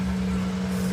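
A car engine idling steadily after starting, with a constant low hum and a rumbling undertone, close and unbroken, no voices.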